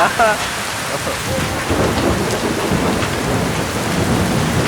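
Heavy typhoon rain pours down continuously while thunder rumbles and cracks, loud and close throughout, outdoors in the UAE.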